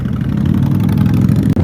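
A Victory Hammer 8 Ball motorcycle engine idles loudly and close by, a steady, dense low throb with no pause until a brief dip at the end.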